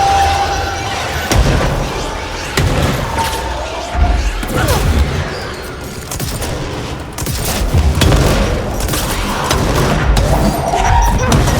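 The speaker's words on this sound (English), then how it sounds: "That's where the grenade came from." A grenade explosion in the video game Control, caught amid a dense, loud barrage of gunfire and booming impacts that continues without a break throughout.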